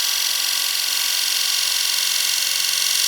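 A closed-flute gouge makes a slow, methodical cut into a wooden bowl spinning on a lathe against the grain, a continuous bright hiss that holds steady and even throughout with no pauses.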